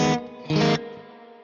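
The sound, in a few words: guitar with amp's built-in spring reverb, Neural DSP Mesa Mark IIC+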